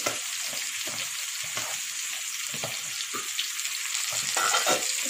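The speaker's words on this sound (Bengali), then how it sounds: "জল দিয়ে ভালো করে কষিয়ে নেব।" Spices with chili powder fry in a pan for a shol fish kalia, giving a constant bright sizzle with repeated scraping strokes of a stirring spoon close by.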